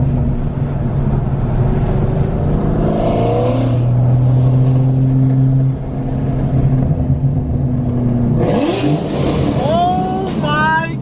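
Car engine revving hard and downshifting during a street race between modified cars, loud rising and falling engine tones with a sharp rev burst near the end, while people talk excitedly over it.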